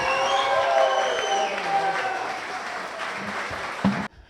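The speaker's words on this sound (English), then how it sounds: "give a big round of applause" Wedding guests break into a round of applause mixed with a few cheers, a bright, fairly close crowd clap that holds for about four seconds before cutting off abruptly.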